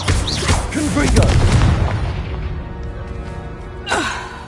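A fiery Confringo spell blast from Hogwarts Legacy booms loudly with a rumbling burst that slowly fades, followed by a sharper whoosh near the end, set amid busy game sound.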